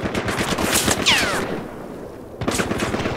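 Rapid automatic gunfire from the Battlefield Hardline shooter, loud and close in dense bursts, with a sharp ricochet-like whine midway, a short lull, then another burst of shots.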